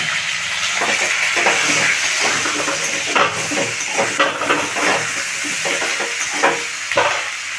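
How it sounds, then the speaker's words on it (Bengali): Spices fry in a pan with salt, Kashmiri chilli powder and turmeric, giving a loud, continuous sizzle and hiss broken by repeated scraping and stirring knocks. "এটা আমি দিয়ে মশলাটাকে কষাচ্ছি।"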